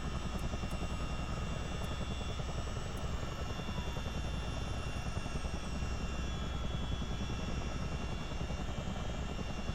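A CH-47D Chinook tandem-rotor helicopter in Microsoft Flight Simulator drones steadily with a dense, continuous rotor and turbine roar, loud and unbroken from start to finish.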